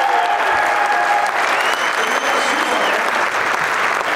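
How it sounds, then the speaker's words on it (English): Dense, loud applause from a large audience at a keynote event, steady and sustained throughout, with a voice faintly audible beneath it. "Give a round of applause."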